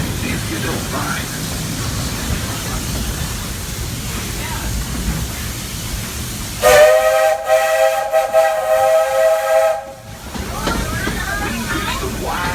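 A loud steam train whistle from the Walt Disney World Railroad blows for a few seconds over a busy outdoor Magic Kingdom background with people talking, then cuts off.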